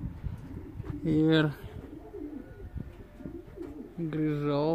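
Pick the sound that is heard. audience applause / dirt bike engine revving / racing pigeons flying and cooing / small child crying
racing pigeons flying and cooing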